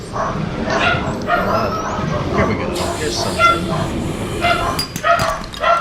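Dogs barking and yipping indoors in a room, several sharp barks scattered through the stretch and mixed with a voice talking over them.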